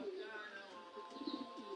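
Pigeons coo softly after their bath, a few faint low warbling calls near the end over a quiet background hum.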